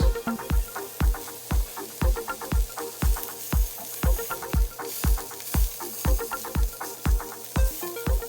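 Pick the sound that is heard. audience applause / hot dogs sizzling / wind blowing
hot dogs sizzling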